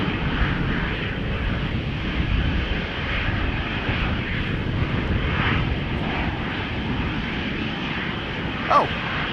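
An airliner moving at Amsterdam Schiphol Airport produces a steady, broadband engine rumble that stays fairly loud and unchanging, with a faint short squeak near the end.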